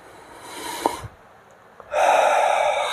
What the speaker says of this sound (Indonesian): Tarik napas dalam-dalam.